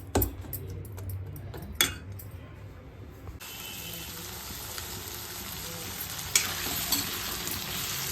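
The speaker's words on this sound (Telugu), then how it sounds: "టమాటా ఆనియన్ పచ్చిమిర్చి లైట్గా ఫ్రై చేస్తున్నా" Tomato, onion and green chilies fry lightly in a pan, giving a steady sizzle throughout with a few sharp clinks of a utensil stirring near the start and again later, close and moderately loud.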